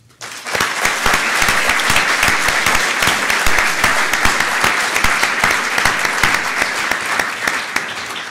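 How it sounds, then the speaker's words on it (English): Sustained, loud applause from an evening lecture audience honouring a long-serving European Space Agency figure, a dense, close wash of clapping that starts abruptly and carries on for eight seconds. "May I invite you, though, to offer a last round of applause for Mr. Richard Peckham and in honour of his achievements."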